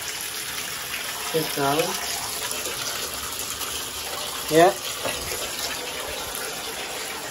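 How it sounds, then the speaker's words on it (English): Water runs steadily into a bathtub as it fills, a continuous gushing hiss through the whole stretch, with a voice and an adult speaking briefly over it. "I'm gonna put water."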